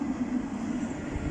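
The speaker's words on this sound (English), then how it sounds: "This is tram. This is tram number" NET tram at David Lane in Nottingham, a faint, steady rumbling hum of the tram running on rails, heard briefly at a distance without voices.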